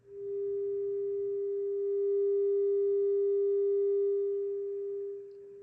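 Clean, undistorted test tone from the output of a modified Marshall Silver Jubilee 2555x amp, a single steady pure pitch held for about five seconds, fairly loud and alone.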